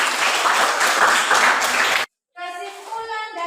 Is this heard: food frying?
no